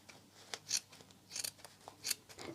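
Scissors snipping through faux fur from an old coat to cut a triangle for a craft gnome's beard, with several crisp close cuts in an uneven rhythm, each with a soft rustle of fabric.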